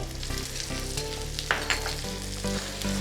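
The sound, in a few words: stirring chilli pork with celery and spring onion in pan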